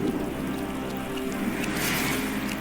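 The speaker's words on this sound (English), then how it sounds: "Until the retroact rain began to fall." Steady, dense rain pours down in the video game Wuthering Waves, a constant close hiss of drops on surfaces with no voices over it.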